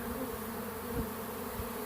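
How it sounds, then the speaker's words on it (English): A honeybee swarm of roughly ten pounds in a bee yard, a close, dense and steady buzzing hum of many bees, faint overall and without talk. "I'm just in the midst of the swarm."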